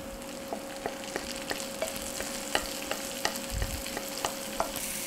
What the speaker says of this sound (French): Dès que l'ail et l'échalote commencent à roussir, on ajoute les champignons.